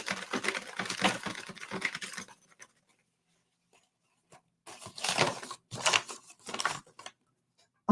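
Sheets of paper rustled and crumpled together to mimic wind, coming in two close bursts of crackly rustling separated by a quiet gap, with no one speaking.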